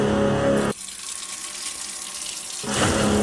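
Tap water runs loudly from a faucet into a sink, breaks off into a quieter stretch, then gushes strongly again.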